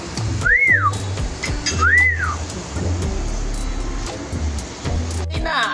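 Two arched whistled notes near the start, then low rumbling background noise with faint voices continuing for a few seconds.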